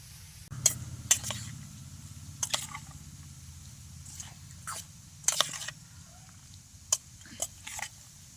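Marinated chicken fries in white oil in a wok with a low, steady sizzle, broken by repeated sharp clinks and scrapes of a utensil stirring at irregular intervals, close and fairly quiet.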